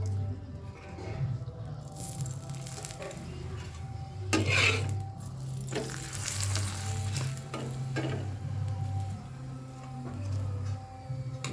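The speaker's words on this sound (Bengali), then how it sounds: "দেখো প্রত্যেকটা পরোটা কেমন ফুলে উঠছে দেখো।" Green pea kachori puff and fry in white oil with a steady, close sizzling crackle that runs the whole time, broken by occasional stirring and scraping from a utensil in the pan.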